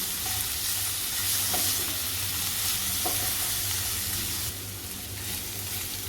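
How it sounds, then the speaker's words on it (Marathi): Garlic and onions frying together in a pan give a dense, steady sizzle with occasional stirring scrapes, close and continuous, easing slightly toward the end. "आता लसूण आपण एक मिनटं परतून घेतलं आहे कांद्याबरोबरच"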